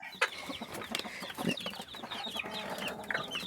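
Hens clucking near and a little off while small chicks peep in thin, high chirps on a backyard farm, with overlapping calls and soft scratching throughout.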